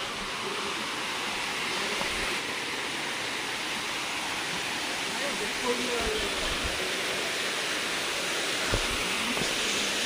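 Ashokjhar waterfall pours in a steady, loud broadband roar of falling water that fills the scene without pause, with faint voices barely emerging beneath it.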